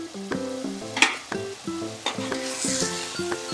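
Chicken masala for mohan maas fries in ghee with a steady, close sizzle and occasional stirring scrapes, under rhythmic background music.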